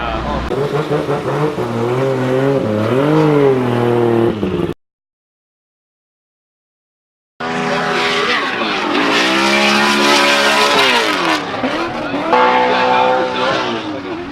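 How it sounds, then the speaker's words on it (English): A carbon Kevlar BMW drift car at a Formula Drift round in St. Louis roars through the track, its engine loud and harmonically rich with rising and falling revs and tire squeal, broken by a brief silent gap before resuming. "Can't see the back of that carbon Kevlar BMW as flying through the track is Christoph Blusch."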